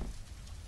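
Steady rain falls in a Japanese-set horror video game, a dense continuous hiss with low rumble, even and unbroken throughout.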